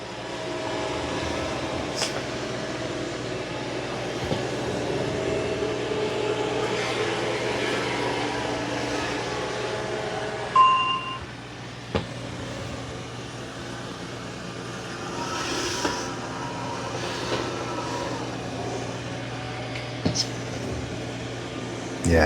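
Roborock QX Revo robot vacuum running with suction on high, a steady moderate whirring hum with faint tonal whine and occasional light knocks; not very loud.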